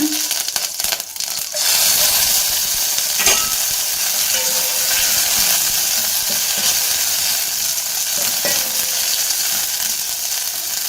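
Curry leaves drop into hot oil for tomato rasam and set off a loud, steady sizzle that keeps crackling and spitting close by.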